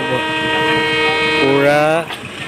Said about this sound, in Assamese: এইখন আহি গ'ল ট্ৰেইন।